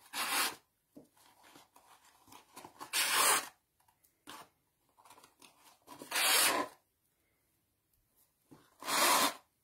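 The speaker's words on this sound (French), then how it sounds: "Je passe mon ruban dans une grosse aiguille à broder." A ribbon is pulled through a large embroidery needle in a few separate bursts of close, raspy, fabric-like rubbing, with quiet handling noises in between.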